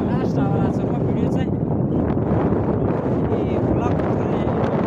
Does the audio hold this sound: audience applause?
no